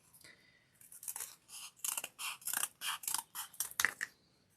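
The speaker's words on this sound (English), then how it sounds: "let me use my other scissors. It's a bit bigger." Scissors snip through dried paper pieces in a quick series of about a dozen crisp, close cuts with a rhythmic, slightly crunchy snap to each stroke, faint and alone.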